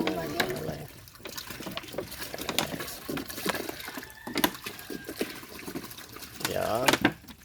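Water poured into a container while kids fetch water, uneven gurgling splashes and trickles up close, with people talking over the pouring at times.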